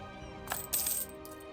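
A bright coin clink plays as a loan is paid off in Europa Universalis IV, a short metallic jingle of two quick chimes over steady game background music.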